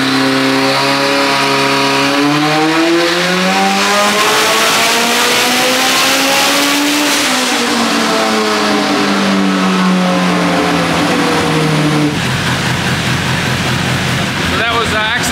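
Nissan GTi-R with a billet SR20VET engine revs hard on a dyno with NOS, a loud sustained roar climbing and falling in pitch through long pulls before dropping off near the end, with people talking over it.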